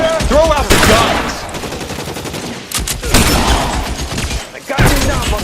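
Gunfire in L.A. Noire Remastered on PS4: loud, dense bursts of shots and rapid automatic fire come in clusters with brief gaps, mixed with shouted voices.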